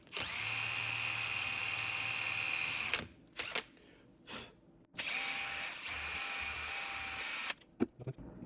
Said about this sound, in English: So we're gonna have to drill it out